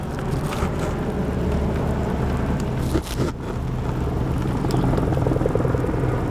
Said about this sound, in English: I see this helicopter hovering.